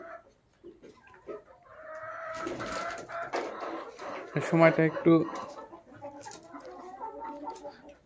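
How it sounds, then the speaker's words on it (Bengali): Native Sonali chickens kept for egg production cluck and murmur in bursts around their pen, moderately close, while someone talks over them. "আমার দেশি সোনালী মুরগিগুলা এইগুলা সব আন্ডার প্রোডাকশনের জন্য রাখা হয়েছে।"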